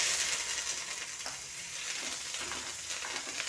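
Green chillies and curry leaves sizzle in an aluminium pan, a steady bright frying hiss with faint stirring scrapes, close and continuous without any talk.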